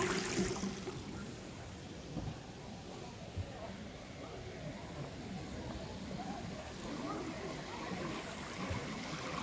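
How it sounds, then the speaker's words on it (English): Soft, steady trickling of a small stream in Coventry, UK runs quietly throughout, a gentle continuous babble of water. "The sound of water."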